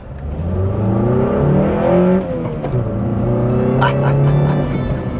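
A 1994 Honda Accord with a five-speed manual, 295,000 km and its intake removed revs hard in the rain. Its engine note climbs and falls in several loud, close sweeps with a raw induction growl.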